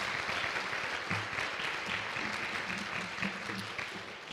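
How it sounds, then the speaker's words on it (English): Sustained audience applause for presenters at a Three Minute Thesis competition evening, with dense clapping from a sizable crowd that holds steady and then eases slightly toward the end. "How about a collective round of applause for all of our presenters this evening?"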